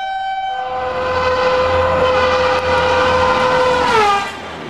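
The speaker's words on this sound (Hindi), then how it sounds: "रेलवे में सफर के दौरान कई बार हमें ट्रेन का हॉर्न सुनाई देता है" An Indian Railways train sounds a long, loud, sustained horn with a rich harmonic tone that bends down in pitch near the end, over the rumble of the moving train.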